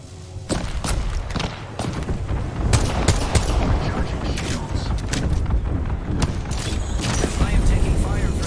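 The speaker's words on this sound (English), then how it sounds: "Airstrike." Airstrike attack with rapid gunfire in the video game Apex Legends: dense, loud overlapping bursts of shots and blasts running continuously throughout, with sharp impacts standing out.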